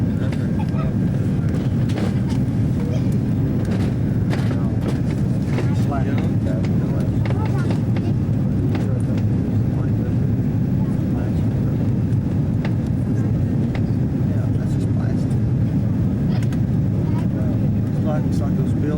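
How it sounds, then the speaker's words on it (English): Steady, loud cabin roar of an airliner descending to land at Atlanta airport, a continuous low drone filling the whole stretch while people talk over it. "descending into Atlanta, Yeah, there's the airport"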